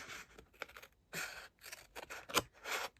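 Scissors cutting through paper card for a Christmas gift pocket: several short, close snipping strokes in an uneven rhythm, crisp and fairly quiet with no talk.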